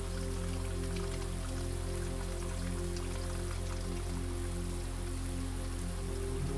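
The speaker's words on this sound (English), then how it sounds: "It's just the greenhouse being the greenhouse. Only this side is raining." Rain falling inside a greenhouse in the video game Blue Prince, a steady soft patter of drops over a constant low hum, even and unbroken throughout.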